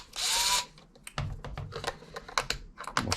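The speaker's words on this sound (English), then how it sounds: "I'll pull these screws out real quick." Screws are pulled from a leaking Bissell steam mop during a repair, starting with a short burst of whirring power driver and followed by a series of small clicks and rattles of screws and plastic parts, close and alone.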